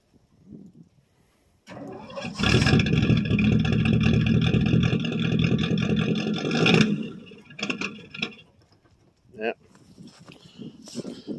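A 1965 Ford Fairlane 500's 289 V8 cranks after three years unstarted, catches and roars loudly for several seconds of revving, then dies, leaving scattered clunks and faint noises.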